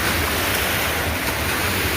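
Big sea waves surge near a small fishing area, a loud continuous roar of surf with wind noise buffeting the microphone, steady throughout with no talk.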